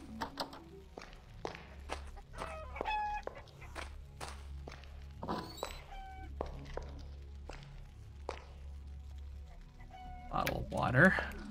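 Chickens in the video game Arx Fatalis give scattered clucks among frequent footsteps, with a few sharper squawks toward the end over a low background hum.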